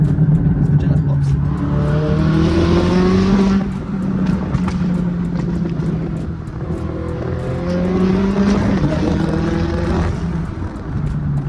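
A McLaren sports car accelerates through traffic with a loud, rising exhaust roar that climbs twice, crackling pops scattered throughout, heard close from inside with someone talking over it.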